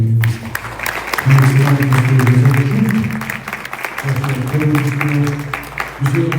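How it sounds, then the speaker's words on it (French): An audience applauds the Prime Minister at a formal gathering, with steady, sustained clapping mixed with loud voices throughout. "Je vous prie d'applaudir encore chaudement le Premier ministre."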